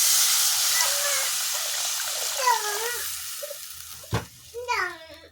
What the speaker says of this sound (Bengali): দেখুন এর মধ্যে আমি এখন দিয়ে দিচ্ছি জল।